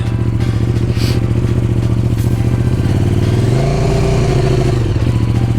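A KTM motorcycle engine runs loud and close, with a rough, pulsing idle that rises in pitch as the throttle is blipped around the middle, then settles back, in an indoor home garage setting, with no speech over it.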